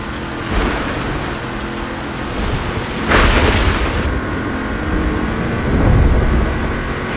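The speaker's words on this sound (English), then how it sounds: "That lightning was way too close." A close lightning strike cracks into a heavy thunder boom in Forza Horizon, cutting through steady rain and rumbling car noise, with a second rolling swell of thunder following moments later.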